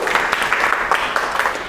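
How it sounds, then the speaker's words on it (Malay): Classroom applause for a student named Iskandar: a steady patter of many hands clapping together, moderately loud and continuous for a couple of seconds, with no voices over it. "berikan tepukan untuk Iskandar"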